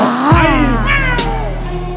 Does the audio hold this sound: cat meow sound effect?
yes